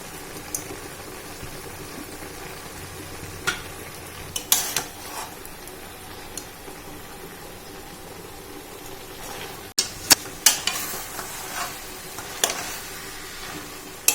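Fried Hilsa fish heads go into a pan of cooking water spinach: a low, steady sizzle with scattered clinks and knocks of utensils against the pan, plus a couple of sharper clatters near the end.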